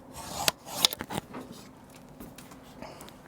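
Hand snips cut pieces of fiber cement siding with a few sharp close crunching clips early on, followed by faint scraping and rubbing.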